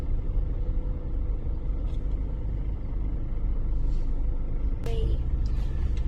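Steady road traffic rumble near Talisay City Hall in Cebu, at a stoplight intersection, with a continuous low engine drone and a brief higher squeal late on.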